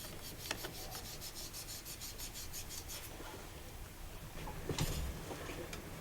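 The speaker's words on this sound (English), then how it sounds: "I'm going to use some number 600 steel wool. I'm going to clean some of that gunk off of there." Fine number 600 steel wool rubbing gunk off a part during a repair, quick rhythmic scrubbing strokes close to the microphone, fairly faint and continuous.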